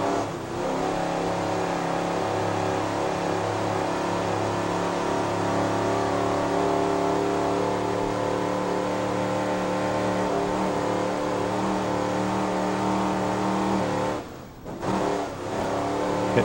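A Fountain racing powerboat engine roars steadily and loud through a national championship race, holding a rich droning pitch before briefly dipping near the end as the boat hits a bump in the corner.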